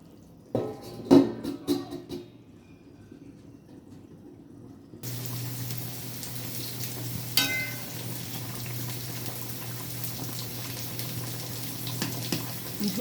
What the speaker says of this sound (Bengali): এবারে গ্যাসটা আমি কমিয়ে, আঁচটাকে কমিয়ে ঢেকে দেব। দু তিন মিনিট এরকমভাবে ফুটবে